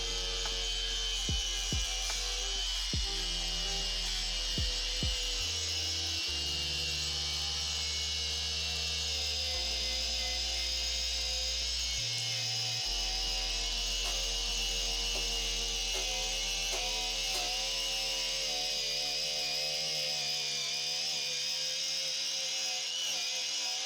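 A power tool grinds and sands against a metal car body panel on the passenger side, a steady high whine running throughout with some lower mechanical rumble and shifting tones, no talking.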